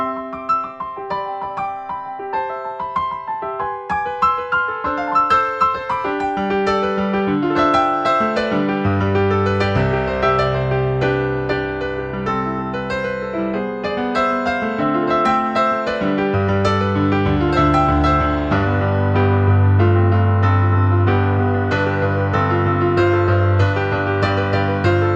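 Solo piano playing the intro to a song, a lively, full-bodied passage with busy chords over deep sustained bass notes, clear and close with no talking.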